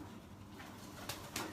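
A Sialkot pigeon gives a few soft, low coos at close range in a quiet setting, with two brief sharper rustles near the end and no one speaking.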